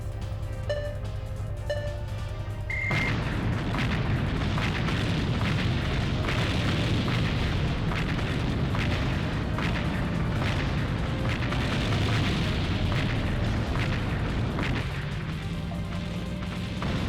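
Heavy tank firing missiles in the PS2 combat game Shin Combat Choro Q, a dense, continuous barrage of booms and blasts that fills the mix loudly from about three seconds on, over steady game sound.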